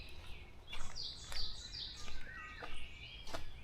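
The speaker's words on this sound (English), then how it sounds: "I can hear it, bird." A morning songbird outdoors near an open grassy space gives short, high chirps and whistles in scattered bursts, moderately clear against quiet background hiss.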